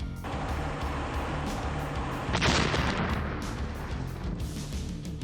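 A 155mm artillery shell carrying anti-tank mines is fired, heard as a sound effect: a steady heavy rumbling roar throughout, with a sharper loud blast about halfway through that trails off into continued low rumble.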